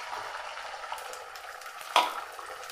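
Beaten egg sizzles in coconut oil in a pan, a soft continuous frying hiss broken by one sharp stirring clink near the end.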